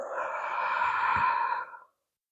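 A long, audible exhale through the mouth during a yoga class, steady for under two seconds, then fading to silence.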